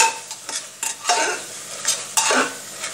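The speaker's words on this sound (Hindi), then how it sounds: "एक बार हम मसाले को और मिक्स करके देख लेते हैं।" Spices and onion being stirred in a cooking pan for a potato and soybean dish, a spoon scraping in several quick strokes over a light sizzle, close up.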